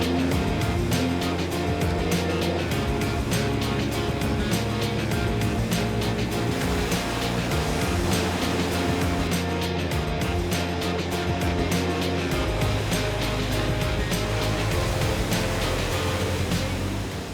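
A brand-new 2010 Sea-Doo RX-TX jet ski runs steadily across ocean waves, its engine droning loud and continuous with water slapping throughout, and no talk over it.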